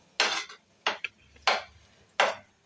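Chopped onion with chicken masala sautéed in a pan: four distinct scraping, knocking strokes of a spoon against the pan, close and fairly loud, with quiet gaps between them and no talking.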